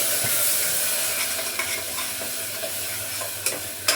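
Spices sizzle and fry in oil while a spoon stirs them in a pan, making a constant close hiss with a few sharp scrapes toward the end.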